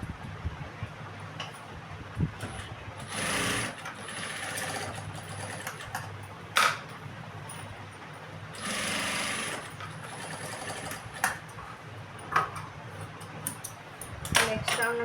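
A sewing machine stitches a blouse in two sustained close bursts of rapid whirring, separated by quieter handling clicks and knocks of fabric and tools.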